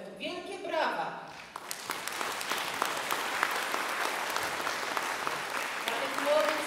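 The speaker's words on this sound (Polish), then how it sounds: "Wielkie brawa!" An audience applauds students after a music school concert, with steady dense clapping that follows a brief spoken voice at the start and carries on evenly to the end.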